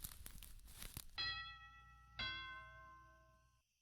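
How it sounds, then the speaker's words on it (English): A two-tone doorbell chimes ding-dong, two clear ringing strikes about a second apart that fade out slowly, following a brief burst of rustling and crinkling. "But looked back once more at the sound of the doorbell."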